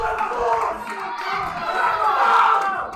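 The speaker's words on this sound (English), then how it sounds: "He has the crowd yelling for him." Spectators at a national powerlifting championship yell and cheer for a male lifter attempting a 300 kg lift, a dense, sustained roar of crowd voices that swells louder toward the end.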